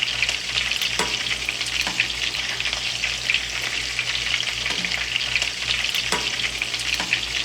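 Meatballs fry in bacon grease in a pan, a steady dense sizzle running throughout with occasional faint stirring clicks and a low constant hum beneath, no voices.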